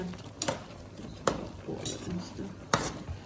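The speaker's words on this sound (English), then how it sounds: "I'm gonna check the pasta pot because it's like overflowing a little bit." Metal clinks and knocks from a pasta pot being handled on a stovetop, with a few sharp clanks spread over a soft kitchen background.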